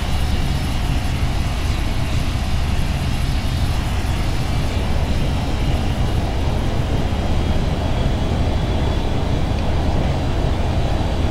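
Jet aircraft taxiing on an aircraft carrier deck in Flight Simulator X, a steady, loud engine roar and broadband rumble holding constant throughout with no speech.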